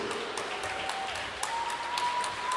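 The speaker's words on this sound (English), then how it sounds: "Let's give a round of applause for our seniors." Spectators applaud at a college men's basketball game during senior night, steady crowd clapping that holds fairly even throughout, with a few faint sneaker squeaks or pings over it.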